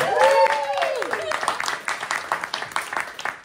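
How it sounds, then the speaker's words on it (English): An improv comedy night audience claps for a departing performer, a scattered burst of applause following a brief voice, moderately loud in the room and fading slightly. "let's give her a round of applause"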